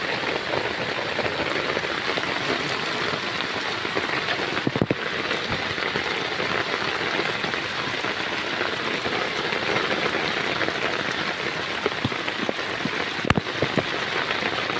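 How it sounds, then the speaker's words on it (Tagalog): Steady rain falls on a flooded garden during a typhoon, a dense continuous patter with a couple of sharper drops or knocks standing out above the wash. "Ito naman ang ulan."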